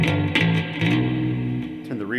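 Bass VI electric bass strung as a baritone guitar, played with reverb switched on, a sustained low chord ringing with a washy tail and a brief pitch bend near the end.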